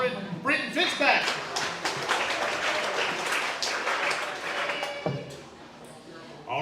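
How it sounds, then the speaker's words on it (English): Audience applause in a gym or hall for a departing football player at a high school team banquet, broad sustained clapping with crowd noise and some overlapping talk, fading toward the end. "Everybody give a round of applause, Britton Fitzpatrick."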